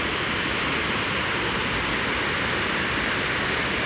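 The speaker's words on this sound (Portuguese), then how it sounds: "Linda cachoeira aqui de Jati, descendo aqui pelo vertedouro." Water from the Jati dam spillway pours down as a waterfall, making a loud, steady, broadband roar. It holds constant and unbroken throughout with no other sounds.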